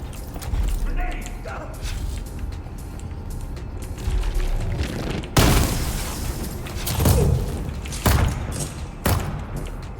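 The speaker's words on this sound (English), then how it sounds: "Grenade." Grenade blast and combat noise in the Dune Awakening PvP lab: mechanical clanks and thuds, then a sharp loud burst near the middle followed by further heavy impacts and rumbling booms.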